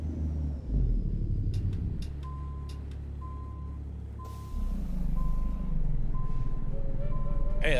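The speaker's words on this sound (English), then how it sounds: "Hear how it's all bogged down?" A truck in a trucking video game rumbles low and labors under load while a reversing alarm beeps at regular intervals, with a brief hiss and rising engine tone near the end.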